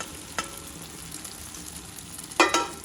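Eggs and potatoes fry in olive oil in a pan for a Spanish tortilla de patatas, a faint low sizzle broken by two brief crackling bursts, heard with no voices.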